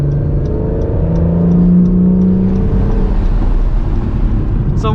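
A 2020 Acura NSX accelerating hard out of a turn on a race track, a loud rising engine roar that climbs and holds, with rhythmic ticking on top and the cabin close to the sound.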